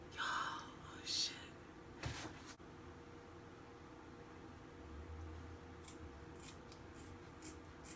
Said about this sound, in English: New, fresh hair shears. And now we're just gonna cut.